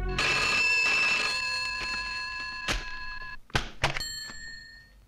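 A telephone rings loudly after a call is placed, with a steady electronic ring followed by a few clunks and shorter bursts of ringing as the line picks up.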